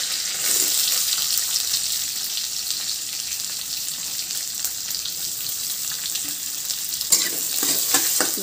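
Chopped onion fries in hot oil with cumin and curry leaves, a steady close crackling sizzle with a brief stirring clatter near the end.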